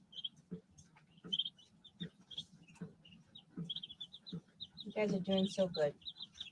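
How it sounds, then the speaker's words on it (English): Chickens give soft, repeated chirping peeps close by, scattered through the scene, while someone talks to them. "Look how big the chickens are."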